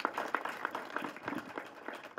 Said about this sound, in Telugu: వాళ్ళ కోసం గట్టిగా చప్పట్లు ఒకసారి.